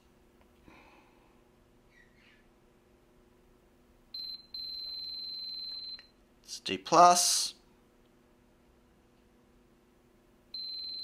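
Continuity tester buzzing out the D+ and D− pins of a USB connector on an ESP32 board: a sustained high-pitched beep of nearly two seconds, a loud brief rustle, then another beep starting at the end, with a voice speaking briefly.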